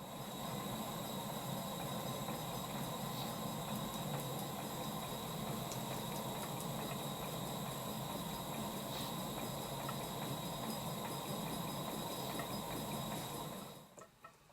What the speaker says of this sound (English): I'll stop talking for a while so you can see and hear the engine in steam